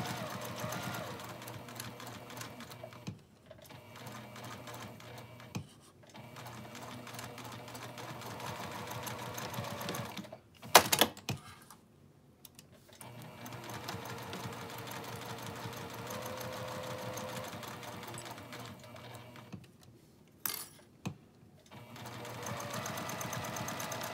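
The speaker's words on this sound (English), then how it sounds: "we're just going to sew around the edge with a quarter inch seam" A sewing machine stitching a quarter-inch seam around the edge of a teacher's apron, running in long steady bursts broken by short pauses, close and fairly loud with no talk over it.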